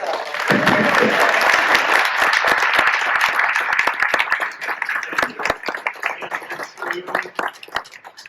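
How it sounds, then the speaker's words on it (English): Loud, dense applause from a large crowd at an awards presentation, sustained for several seconds before thinning into scattered individual claps toward the end. "You deserve a huge round of applause."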